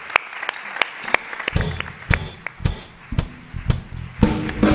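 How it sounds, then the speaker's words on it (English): Conference audience at the South Summit Arena Stage applauding speakers, with sharp separate claps building into bursts of group clapping mixed with low rumbling crowd noise. "Let's give them a warm round of applause"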